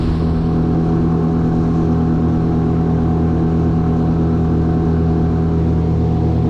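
A motorboat engine drones steadily and loudly on a river, a continuous close hum with a strong low tone and no talk.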